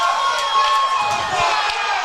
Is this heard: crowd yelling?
yes